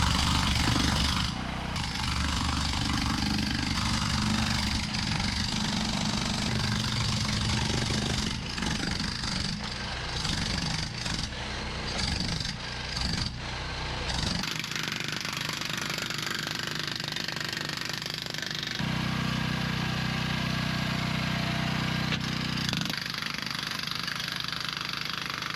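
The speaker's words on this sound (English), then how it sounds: "So we took a Makita jackhammer with the chisel attachment and just chiseled the tile away." A Makita jackhammer with a chisel attachment chips tile off a concrete walkway, a loud continuous rattling hammering close by that runs through the whole stretch, shifting in tone partway as the tool works.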